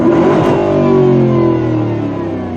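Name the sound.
car engine revving, V8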